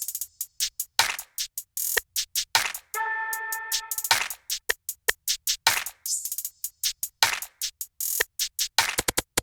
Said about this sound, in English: the drums, when they're all together, sounds like this